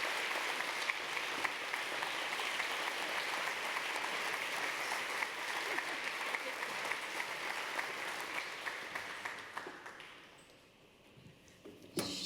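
Sustained applause from a luncheon audience at the Gift of Peace Luncheon for The Spring of Tampa Bay, a dense steady wash of many hands clapping that fades out near the end, no speech.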